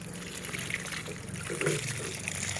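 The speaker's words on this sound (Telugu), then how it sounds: "దానికి నీళ్ళు పోస్తాను" Water poured onto plants in a terrace garden, a soft continuous trickle and splash close by, steady and gentle with no voices over it.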